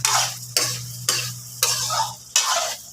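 Five distinct stirring strokes scrape through squid adobo in coconut milk as vegetables go in, each stroke a sharp swish followed by a sizzling, bubbling simmer.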